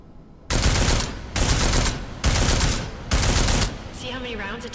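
Four long bursts of sustained automatic gunfire in Deus Ex: Mankind Divided, loud and close, each lasting nearly a second with short gaps between, followed by a quieter tail with some tonal game sounds.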